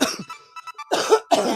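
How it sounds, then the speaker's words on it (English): A person with a lingering cold coughs and clears their throat, loud and close, in several rough bursts separated by short pauses. "I'm still coughing from that freaking cold, man"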